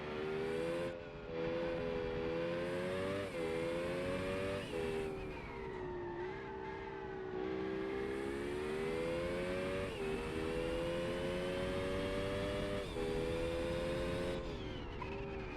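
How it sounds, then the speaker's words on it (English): A race car engine with a sequential gearbox revs up and down repeatedly, its tone climbing and dropping through several gear-like steps, loud and continuous with a whining edge. "Sounds like a racing car."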